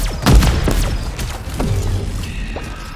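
Heavy booms and crashes from grenade explosions in the Modern Warfare Zombies video game, one big loud blast followed by further rumbling detonations and scattered mechanical noise, with no talking.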